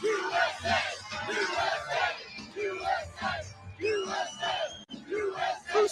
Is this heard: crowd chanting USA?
yes